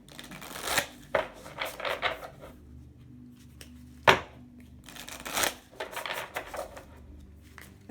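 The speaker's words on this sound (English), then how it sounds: "It's hard to like talk and also shuffle at the same time" Moonology Oracle cards shuffled by hand, close riffling and slapping bursts in irregular clusters with brief pauses, alone and without speech.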